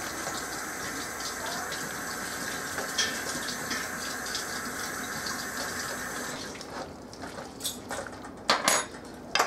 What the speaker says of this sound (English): Let me rinse our forks off.